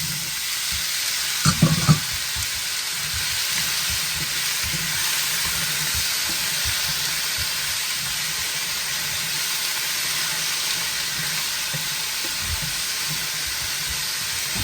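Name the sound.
potatoes frying and sizzling in oil in a pan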